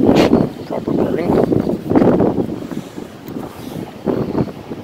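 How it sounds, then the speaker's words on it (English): An engine runs after a tune-up, its exhaust giving an uneven rumble in rising and falling surges, with heavy wind buffeting the microphone throughout. "There's some exhaust for you."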